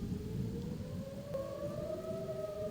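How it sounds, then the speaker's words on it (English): Tornado sirens wail steadily with a long, rising and falling tone during a disc golf tournament round in Jonesboro. They sound distant and blend with a low rumble of wind. "the tornado sirens are going off"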